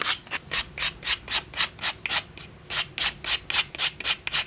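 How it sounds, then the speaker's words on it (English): Sandpaper rubs back and forth over the edge of a wooden fishing lure's mouth, producing about a dozen crisp, close, evenly spaced rasping strokes with no talking. "take my sandpaper and just run it over the edge"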